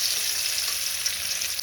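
Fish fries in hot oil with a steady, close, even sizzle that carries on without a break and with no voices.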